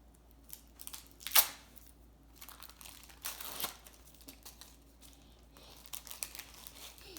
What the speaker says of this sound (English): First, unwrap your square cheese.